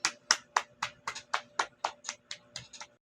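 Students in a classroom giving themselves a round of applause: about a dozen sharp, evenly spaced claps, close and fairly crisp, with no talk over them.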